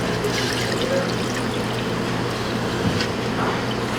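Water draining off boiled potatoes for rosti, a steady continuous pouring and splashing rush, close and fairly loud throughout.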